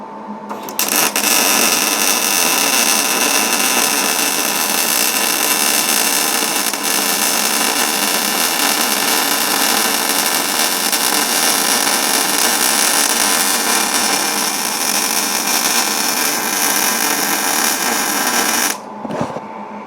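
Welding on a knife jig produces a loud, continuous hissing crackle that runs steadily for nearly twenty seconds before stopping abruptly, with a brief burst of sound just after.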